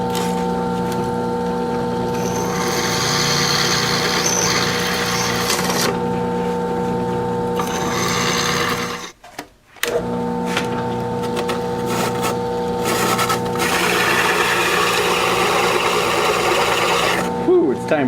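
A steady, loud grinding whine of a dull unibit step drill bit boring mounting holes during a Honda Sabre cafe racer build, running continuously with one brief pause midway before resuming.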